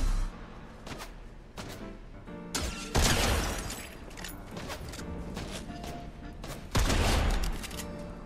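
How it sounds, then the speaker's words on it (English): Gunfire coming from several directions in the Fortnite video game, with scattered shots and two louder, heavier bursts of impacts, all set against a busy game soundscape. "I'm getting shot from multiple sides here"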